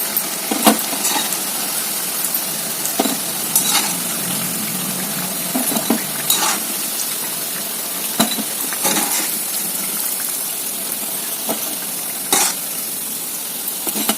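Moringa leaf vadas deep-frying in hot oil, a loud steady sizzle and bubbling that fills the whole stretch, with occasional clinks and scrapes of a ladle against the pan.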